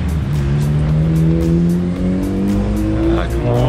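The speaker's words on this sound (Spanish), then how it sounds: "Como odio los carros ruidosos." A noisy car passes by on the road, its engine droning loudly and close with a rising and falling pitch as it goes past.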